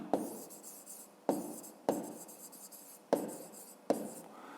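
Pen writing by hand on paper while working a grade-5 maths exercise, with five distinct sharp strokes or taps at roughly one-second intervals, each followed by fainter scratching, close and fairly quiet.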